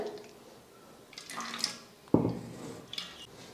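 Blended watermelon juice is strained through a sieve, with quiet liquid trickling and dripping and a sharp splash of pouring near the middle.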